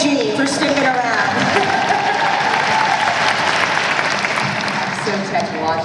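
Sustained audience applause at a Star Trek convention panel greeting a Klingon actor guest, dense clapping from a large crowd filling the hall evenly and loudly for about six seconds.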